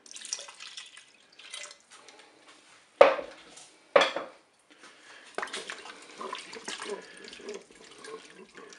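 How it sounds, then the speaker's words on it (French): Milk, 500 ml, is poured into a Cookeo multicooker set to manual browning mode, a soft liquid splashing and trickling with two sharp clinks of the container partway through. "Je vais verser les 500 ml de lait."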